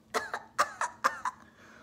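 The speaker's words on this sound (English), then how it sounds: "please pardon my cough" A short fit of several quick, raspy coughs in a close, irregular burst, trailing off into a faint throat sound.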